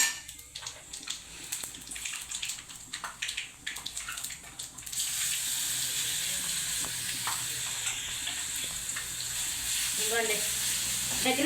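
A storable breakfast chutney goes into a hot pan and fries. Light clicks and stirring come first, then a loud, continuous close sizzle takes over about halfway and holds steady to the end, with no voices.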